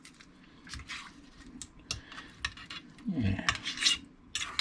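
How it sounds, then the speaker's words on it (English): A metal fork clinks and scrapes in a pan while tossing butter-soaked shrimp with cilantro and garlic. The light taps are intermittent, with a brief sizzle and stir partway through, and one short spoken word. "take a fork, kind of toss them around, soak up all that butter"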